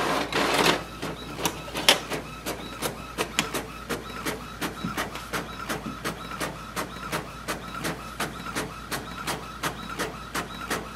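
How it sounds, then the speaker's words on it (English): An Epson WorkForce Pro 3820 printer running a document print job, giving a steady series of sharp mechanical clicks and ticks at a regular beat, with a louder whir of the feed at the start, close and clear with no talk. "click print button, and it will start printing"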